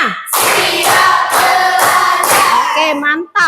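A school classroom erupts in loud rhythmic group clapping, several sharp bursts of many hands striking together at close range.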